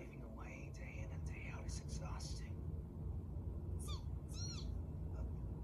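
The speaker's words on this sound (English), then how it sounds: "It's a bird." Several short chirping, whistled bird calls from an anime episode in quick bursts, heard faintly over a low rumbling background.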